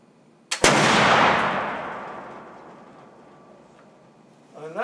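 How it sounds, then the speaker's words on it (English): A single loud, close gunshot fired into a backstop to unload a gun loaded since the start of turkey season, with a long rolling echo that fades over several seconds outdoors. "That is, unload my gun. I have a suitable backstop over there."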